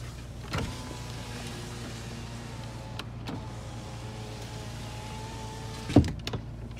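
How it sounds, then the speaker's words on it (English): The driver's power window on a 2007 Toyota FJ Cruiser hums as its motor runs steadily over a quiet idle, ending with a soft thump near the end. "Driver's window."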